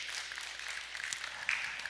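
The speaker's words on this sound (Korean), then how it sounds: "하나님께 영광의 박수 올립니다" A church congregation at a Friday Holy Spirit prayer meeting applauds together, a soft, distant wash of clapping that swells slightly near the end.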